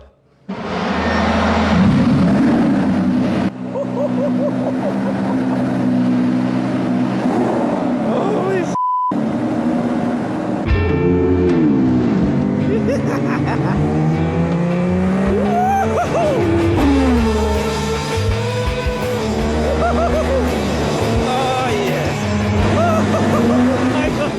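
A McLaren race car is driven hard around a corner, its engine note rising and falling through the gears with tire squeal, loud and continuous, while people talk over it.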